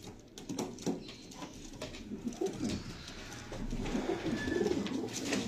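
Teddy pigeons coo softly nearby in low, throaty bursts, with faint pattering and fluttering in the background.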